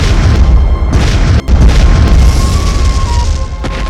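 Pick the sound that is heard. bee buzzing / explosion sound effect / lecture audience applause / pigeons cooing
explosion sound effect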